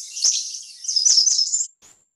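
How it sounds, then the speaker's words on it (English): Light forest birdsong from a stock sound effect: a few clear, high chirps and a longer trilling phrase close by, then a brief final tweet before silence. "Forest and ambient light birds. Okay, some birds chirping."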